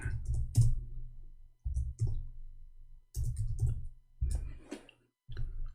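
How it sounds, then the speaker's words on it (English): Bursts of quick typing on a computer keyboard, clusters of clicking keystrokes separated by short pauses, close and clear with no talking. "I'm typing in English again."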